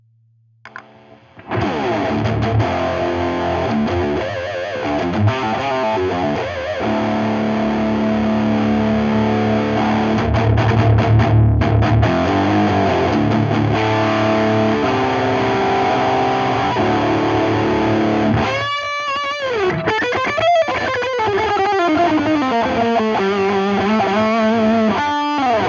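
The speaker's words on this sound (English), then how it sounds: "Sounds great with some distortion." An electric guitar runs through the distortion of a Donner Triple Threat multi-effects pedal, with thick, gritty sustained chords and then bending, wailing notes in the later part, loud and without speech.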